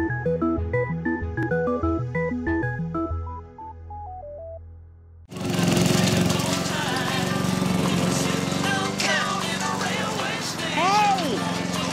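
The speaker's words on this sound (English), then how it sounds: "I'm mowing Vin's lawn." In a scene from the film St. Vincent, a lawn mower drones loudly and continuously while people shout over it, following a short descending piano melody.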